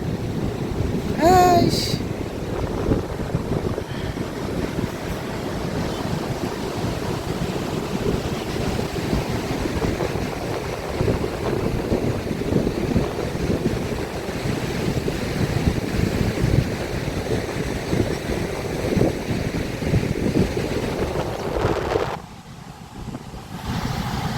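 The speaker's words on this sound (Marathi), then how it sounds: "हे बघा समुद्र कसं दिसतंय, पूर्ण उसळलंय पावसामुळे. तर वारा पण खूप आहे, मरणाचा वारा आहे." Steady roar of rough, rain-swollen surf and strong wind buffeting the microphone on the coast at Devgad, loud and continuous throughout, cutting off abruptly near the end.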